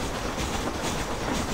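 A train in the video game Red Dead Redemption rolls along with a steady, dense clickety-clack of wheels on rails and constant rumble, loud and close with no talk.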